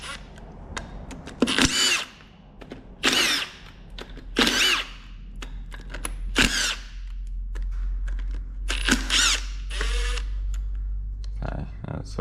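A power tool with a 10mm socket whirs in about six short loud bursts undoing bolts on a Toyota Land Cruiser HZJ75 4WD system, separated by pauses with a low steady hum beneath.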